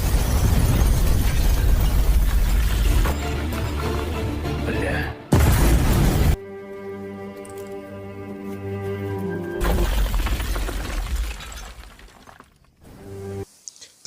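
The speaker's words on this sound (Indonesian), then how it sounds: "Setelah itu, Raven melemparkan bom" Bomb blast from a thrown bomb in a sniper action scene: a sharp, loud burst with shattering debris, set among a dense soundtrack and followed by a sustained tonal drone.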